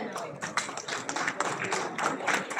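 An audience at a formation day celebration claps steadily, a dense, continuous patter of many hands at moderate loudness without pause.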